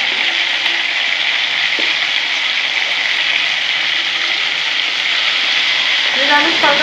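Pointed gourd (potol) with salt and turmeric fries in a pan, giving a steady, loud sizzle that runs throughout, close by, with a short stir or clink near the end.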